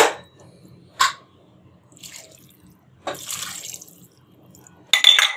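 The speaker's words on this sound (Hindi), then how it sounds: "और डाल देंगे हम पानी।" Water splashes into a pressure cooker holding mutton, onions and spices in short bursts, a splash, a brief trickle, then a longer pour, close and alone with quiet gaps between.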